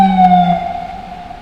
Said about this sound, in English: we'll wait till the fire engine goes by us, or the ambulance